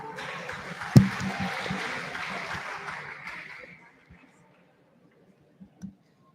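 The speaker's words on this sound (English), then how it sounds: "Can we have a huge round of applause?" Applause breaks out for a Best Delegate Award at a Model UN conference, starting with a sharp clap and then thinning out over a few seconds into near silence, with a couple of faint knocks afterwards.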